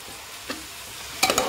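Masala roasting in oil for spicy green peas dal, a low steady sizzle with a soft stir at mid-point and a couple of brief louder scraping strokes near the end.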